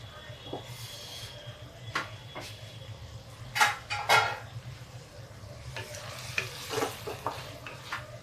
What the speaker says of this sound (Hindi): ये इसको थोड़ा सा भून लेते हैं, भून के इसको निकाल देंगे।